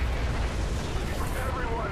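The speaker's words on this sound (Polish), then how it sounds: "Wybuch bomby atomowej chyba." A nuclear bomb detonates in Call of Duty 4 Modern Warfare, producing a dense, loud roaring rumble that fills the whole stretch without letting up.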